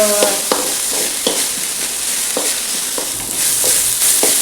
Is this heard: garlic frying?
yes